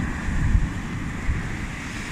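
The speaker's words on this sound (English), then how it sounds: "Such a big wave to wash you back up." Ocean waves washing onto a beach where baby turtles crawl toward the sea: steady low rushing surf with a couple of swells, mixed with wind buffeting the microphone.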